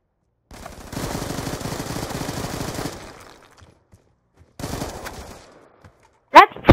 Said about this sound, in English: I just shot you about 20 times